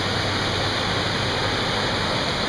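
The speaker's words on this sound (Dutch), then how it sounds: "Ontelbare watervalletjes." Small mountain waterfalls on Mount Triglav give a constant, broad rush of falling water, loud and unbroken with no voices.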